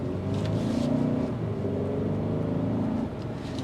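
A 2024 Hyundai Santa Fe Calligraphy, front-wheel drive on 21-inch wheels, accelerates on a test drive, its engine droning steadily and rising in pitch with a continuous close cabin hum and no talk.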